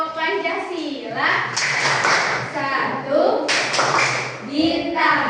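A group of children chants the Tepuk Pancasila rhyme together in a classroom, their voices rising in unison while a few sharp hand claps punctuate the rhythm.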